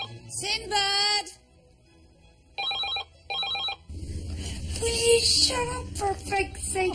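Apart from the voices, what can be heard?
telephone ringing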